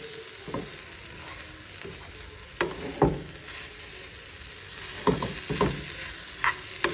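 Food cooks in a pan, with a faint, steady sizzle broken by occasional clinks and stirring scrapes, quiet and without talk.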